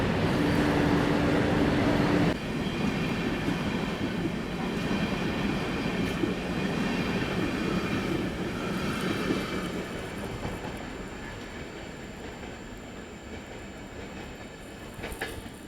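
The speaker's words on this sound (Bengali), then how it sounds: "এক পাশে বিভূতি এক্সপ্রেস আর এক পাশ থেকে বেরোচ্ছে মালগাড়ি" A goods train rumbles past nearby near Panagarh as the Vibhuti Express runs alongside, a steady heavy roar with faint wheel squeals, gradually easing as it moves on.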